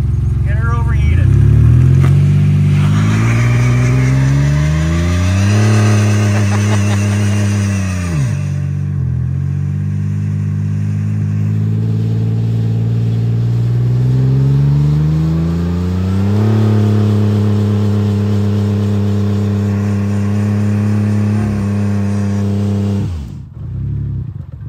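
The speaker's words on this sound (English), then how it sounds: "Should we start a burnout? All right, let's do it. Start with a burnout." A Ford Escape's engine revs hard during a burnout, climbing and falling in long loud sweeps that hold at high pitch, with a brief drop near the middle before revving up again.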